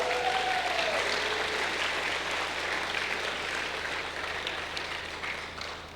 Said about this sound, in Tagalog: Yung pong malakas na palakpak.